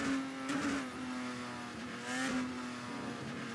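Race car in a video game test drive on a custom F1 track, engine tone held steady and loud with brief rises, alone without talk.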